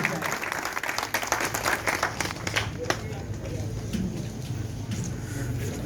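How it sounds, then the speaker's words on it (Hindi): A crowd at a community honouring ceremony claps in sustained applause, dense and fairly loud, with a voice talking over the opening part and murmurs underneath. "एक बार शानदार तालियों से इनकी हौसला अफजाई की जाए"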